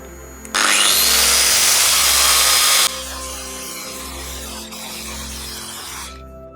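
A power tool cuts a cured resin model into pieces with a loud, high-pitched spinning whine for about two seconds. A softer motor hum continues with rhythmic low thumps behind it.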